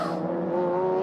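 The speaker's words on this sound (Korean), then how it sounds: "타이어락" A GT race car in an endurance race locks a tyre under braking, giving a brief, strained squeal with a sustained tonal whine over engine noise, close and steady for about a second.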